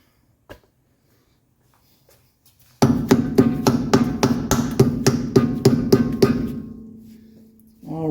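Mallet tapping a grease cap onto the wheel hub of a 1985 Mercedes 300D, a quick run of about a dozen sharp close knocks with ringing, then a fading whir of the spinning wheel.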